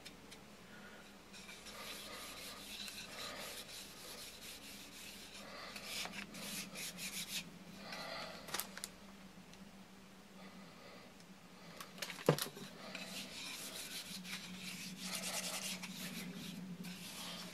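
Vegetable oil is rubbed by hand into a freshly carved wooden spear tip, giving a steady close-up rasping friction in repeated strokes with brief pauses, alone without talk.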